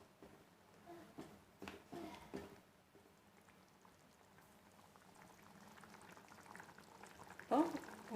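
Mutton liver curry with potatoes simmering in a pot, a soft bubbling and gentle patter near the mic, with a few faint knocks early and a brief louder splash near the end.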